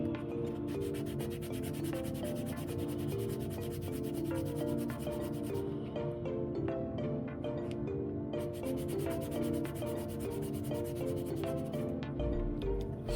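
A shock absorber part rubbed back and forth on a sheet of sandpaper, giving a continuous close, gritty scraping with a steady rhythm and no talk.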